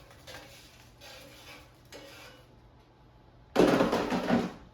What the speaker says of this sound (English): So I'm going to take them out of the air fryer.